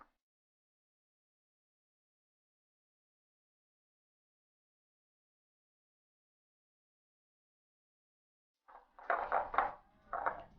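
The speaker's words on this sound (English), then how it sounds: "I'm going to start by creaming my butter and sugar together." Butter and sugar being creamed together in a bowl for almond cream: after a long silence, a few quick scraping, thudding mixing strokes come in a short burst near the end.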